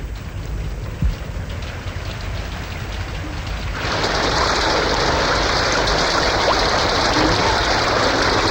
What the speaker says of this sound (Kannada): ಇಂಥ ಭಯಂಕರವಾದ ಮಳೆನಲ್ಲಿ